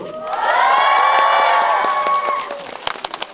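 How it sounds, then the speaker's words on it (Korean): A cinema audience at a film stage greeting claps and cheers steadily, loud and sustained, then fades into scattered individual claps near the end. "박수."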